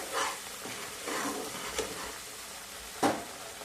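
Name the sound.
sautéing onion and coconut masala in a pan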